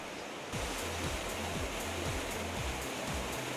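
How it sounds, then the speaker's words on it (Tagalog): A small but powerful waterfall inside a cave in Laguna roars as a steady broadband rush of falling water, rising suddenly after half a second and continuing loud and close with no talk. "Hindi ulan, kundi isang mini but mighty strong falls pa lang nandito."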